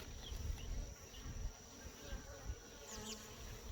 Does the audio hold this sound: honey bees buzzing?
yes